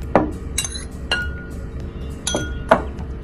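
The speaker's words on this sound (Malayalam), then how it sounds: "ഗ്രേപ്സ് കുറച്ച് നമുക്ക് 2 ഗ്ലാസ്സിലോട്ട് ഇടാം." Grapes are dropped into two drinking glasses, giving four or five separate glassy clinks spaced across a few seconds, close and fairly sharp over a low steady background hum.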